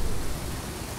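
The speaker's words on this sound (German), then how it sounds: "kann dieser dämliche Regen so langsam mal aufhören?" A dense, even hiss of steady rain in Fallout 4 fills the brief moment, with no other sounds.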